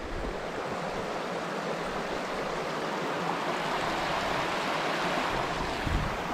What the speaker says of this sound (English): Listen to the gentle water.